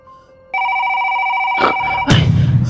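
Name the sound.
telephone ringing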